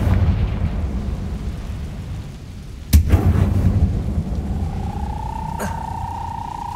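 A sudden blasting-spell explosion from Hogwarts Legacy bursts out of a low rumbling cave ambience, a sharp crack followed by a short rolling boom, then a sustained tonal hum rises and lingers afterward.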